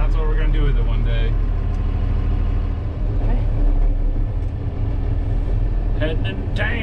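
A Unimog turbo diesel truck drives along with a low, constant engine rumble filling the background while someone talks over it.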